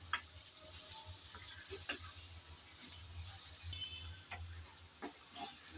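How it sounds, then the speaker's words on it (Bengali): Taro stolons (kochur loti) being stirred in a frying pan, giving a soft, steady sizzle broken by occasional scraping and clinking stir sounds, fairly quiet and close, with no talking. "আবারও একটু নেড়েচেড়ে মিশিয়ে নেব বলে"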